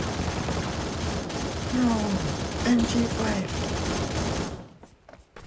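Automatic gunfire rattles in New State Mobile, a dense rapid burst of shots at close range that carries on for several seconds before dropping away, with a player's voice briefly heard.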